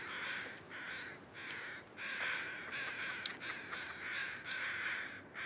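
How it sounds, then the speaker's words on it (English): Crows cawing repeatedly in a survival video game wilderness, a run of loud harsh calls in an uneven rhythm, about a dozen caws with short gaps and no speech. "Y'all crows are loud."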